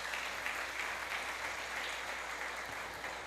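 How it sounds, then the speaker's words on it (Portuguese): A church congregation applauds, a dense, even roar of many hands clapping continuously and fairly loud throughout, with no talking over it. "Dê um aplauso ao Senhor por isso."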